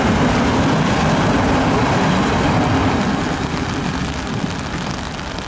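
Steady, dense hiss of heavy rain pours continuously without a break, loud and close, with no voices.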